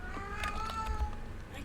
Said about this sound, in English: My cats make the weirdest freaking sounds